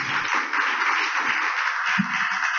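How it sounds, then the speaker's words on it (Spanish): An audience applauds a doctor after a medical lecture on spondylolysis and spondylolisthesis, a steady wash of many hands clapping at moderate loudness with no voices. "Les pido por favor un aplauso"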